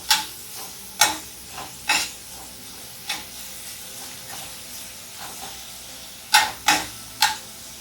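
Breakfast stir-fry ingredients cooking in a hot pan, with a low sizzle running throughout and sharp, uneven scrapes and knocks of stirring against the pan, about a dozen, some in quick clusters.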